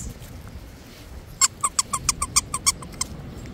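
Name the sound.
dog toy squeaker squeaking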